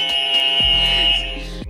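Quiz show answer buzzer, a loud sustained electronic tone lasting over a second before cutting off, with no talk over it.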